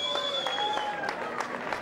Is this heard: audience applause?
yes